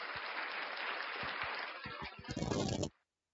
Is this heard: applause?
yes